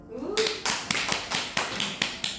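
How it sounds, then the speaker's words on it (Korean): Audience clapping at a network marketing talk: about eight separate, sharp claps in a fairly regular beat, close and moderately loud, following a brief low murmur at the start. "박수."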